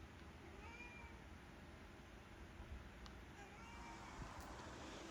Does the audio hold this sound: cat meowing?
yes